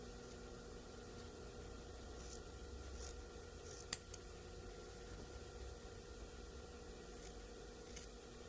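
Scissors trimming excess fabric from a draped collar, faint soft snips and rustling cloth over a steady hiss of room noise, near and quiet, no speech.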